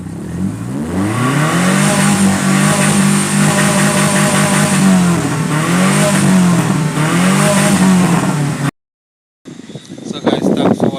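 A car engine fires up after a hose repair and runs with a rising and falling rev, loud and close, before cutting out briefly and resuming with some clatter.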